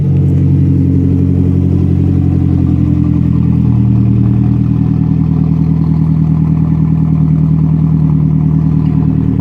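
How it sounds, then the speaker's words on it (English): A warmed-up Mazdaspeed 3 fitted with a catless downpipe and a single-muffler MagnaFlow catback exhaust idles loudly and close by, with a raspy engine drone that rises into a brief rev before settling back to a steady rumble. "on the exhaust, it's catless downpipe with MagnaFlow catback"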